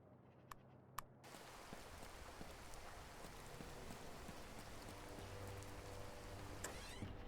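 Steady rain falling outdoors, a dense continuous hiss that holds at an even level for several seconds, with a couple of sharp drip-like ticks near the start and no voices.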